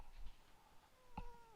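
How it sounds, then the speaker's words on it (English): An indoor house cat gives a single short, faint meow with a rising-then-falling tone, heard on its own against a quiet room. "Yes, kitty cat. You want to go outside?"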